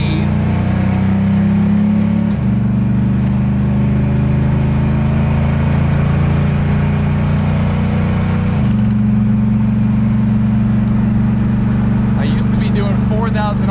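A 1967 Dodge Coronet's engine hums steadily with a low, sustained drone, shifting pitch a couple of times as it revs, with some talk faintly underneath.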